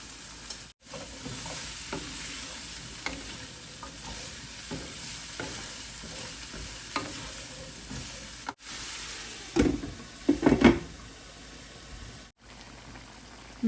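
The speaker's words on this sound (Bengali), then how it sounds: "এখন আমি ভাজি করব ব্রকলি ফুলকপি গাজর আলু দিয়ে অল্প করে একটু হলুদ দিয়ে দিলাম" Broccoli, cauliflower, carrot and potato with a little turmeric sizzle in a pan, a steady soft hiss broken by occasional stirring scrapes and a louder clattering burst near the end, close by with no talk.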